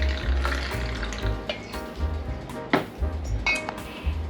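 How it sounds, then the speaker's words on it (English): Light rum pours steadily into a metal shaker tin, with light clinks of ice and glass close by. "We are going to do a 3/4 ounce pour of our light rum."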